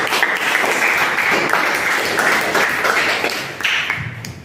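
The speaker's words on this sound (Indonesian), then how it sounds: "Kita tepuk tangan juga buat Adi." Students in a classroom-style session clap for Adi, a brief round of applause that fades somewhat near the end with a few scattered claps.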